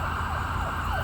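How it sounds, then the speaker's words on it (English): An ambulance siren wails loud and close, its sweeping tone rising and falling over a low rumble of traffic. "that looks like an ambulance"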